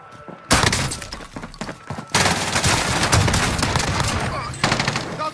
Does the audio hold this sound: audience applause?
no